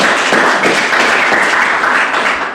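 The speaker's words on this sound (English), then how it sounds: "round of applause for Shane Hayes." A university lecture audience applauds for a guest speaker, a dense, steady burst of clapping filling a short stretch and tapering slightly at the end.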